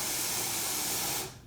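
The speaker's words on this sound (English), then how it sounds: "So I turn on the cold water for the garden sprayer here." A garden sprayer blasts cold water in a steady, close hissing spray that cuts off abruptly after about a second and a half.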